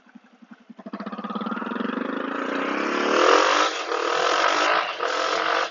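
A 2019 Honda CRF250F motorcycle engine turns over with a few cranking pulses, fires up, and then revs with rising and falling throttle, loud and close, with no talking.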